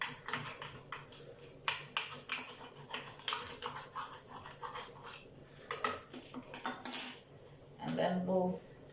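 A utensil scrapes and taps the bottom of a container of homemade onion and garlic powder, a close run of irregular scratchy clicks and rattles, with brief talking near the end.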